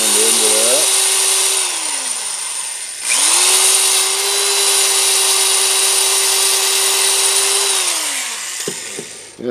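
A loud, close power drill sanding a wooden bowl whirs at a steady pitch, winding down, spinning back up and grinding on with a coarse abrasive hiss.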